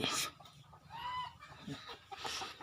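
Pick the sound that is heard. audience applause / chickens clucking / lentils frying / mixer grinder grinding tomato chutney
chickens clucking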